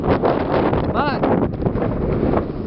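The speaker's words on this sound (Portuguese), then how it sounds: "tá um vento sinistro, tá um vento sinistro." Strong wind buffets the microphone outdoors at a street inline skating contest, a loud continuous rumbling roar with gusty swells throughout, and a voice is heard briefly under it.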